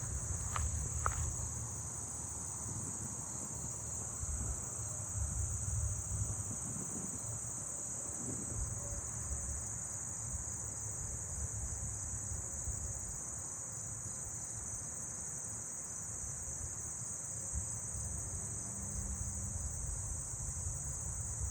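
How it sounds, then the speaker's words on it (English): Short-winged meadow katydids call in a neighbourhood setting, a continuous high, even insect buzz that holds steady throughout the roughly twenty seconds under faint outdoor background noise. "this is where I heard the short-winged meadow katydids."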